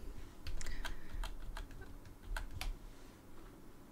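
Quick bursts of typing on a computer keyboard, soft close key clicks in uneven short runs over a low, quiet room hum.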